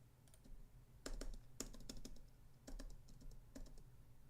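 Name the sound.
computer keyboard keys being pressed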